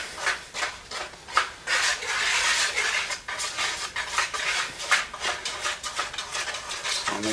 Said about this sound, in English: So I'm just going to dry mix with a whisk.